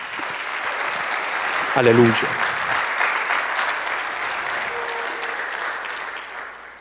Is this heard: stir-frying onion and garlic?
no